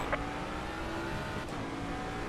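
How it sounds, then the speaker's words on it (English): A race car's engine screams at a steady high pitch in a racing video game, held at constant over-revving intensity throughout with continuous broadband roar. "I over-revved."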